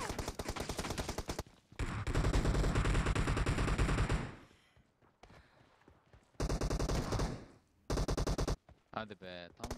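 Sustained automatic gunfire in the battle royale game PUBG Mobile, several loud close bursts separated by short pauses, with voices talking among the shots.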